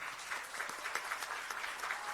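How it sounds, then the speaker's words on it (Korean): Audience at a political party launch ceremony breaks into steady applause, many hands clapping evenly at moderate volume for a couple of seconds with no talk over it. "세 분께 다시 한번 큰 박수 부탁드립니다"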